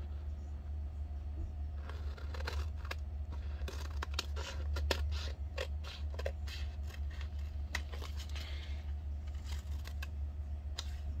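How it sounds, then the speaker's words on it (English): Scissors cutting around paper for a Christmas craft, making a series of close, quiet snips and paper rustles in irregular bursts over a low background hum. "I'm going to cut this. Cut this around."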